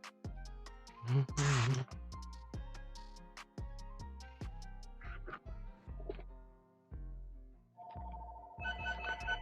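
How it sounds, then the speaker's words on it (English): A phone rings with an incoming call during window tinting on a 2020 Honda Civic hatchback, a steady repeating ring tone rising near the end over music and clattering sounds. "Phone call."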